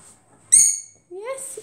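Pet lovebird giving two sharp, bright whistling calls close by, a short high chirp followed by a rising, more tonal call, with quiet gaps between.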